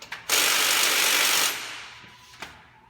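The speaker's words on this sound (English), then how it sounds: "he's going to use the impact to take the other ones out" An impact wrench removing bolts on a concrete grinder motor rattles in one loud, buzzing burst of about a second, trails off, then gives a brief second zap.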